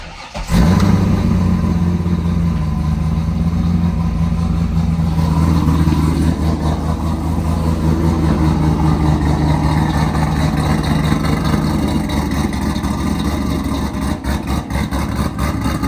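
A Chevrolet Corvette C5 and C8 fire up in a garage: a sharp starter crank gives way to a loud, steady, rumbling idle that stays strong and close throughout, with slight revs and no talking.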